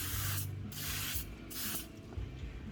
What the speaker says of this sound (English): I've just got to spray that with some grease or canola spray